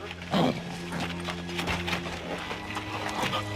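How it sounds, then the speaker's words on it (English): A horse's hooves clop slowly and steadily over a low background hum in a Western scene. "That's Jethro's horse."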